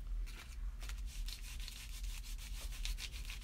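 A texture tool rubs over junk journal paper in quick, soft scraping strokes that repeat in a loose rhythm, close and fairly quiet.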